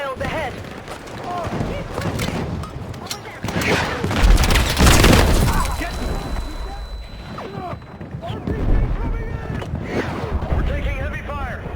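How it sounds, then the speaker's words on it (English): Battlefield 6 video game combat: dense volleys of rifle and machine-gun fire crackle in rapid bursts, with heavy booms swelling in the middle and later, while voices shout over the battle. "We're taking heavy fire."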